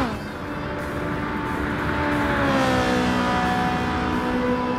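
A 2006 Ford GT engine tuned to 805 hp in Gran Turismo 7 drones steadily with rising and falling pitch as it revs, loud and close, with no talking over it.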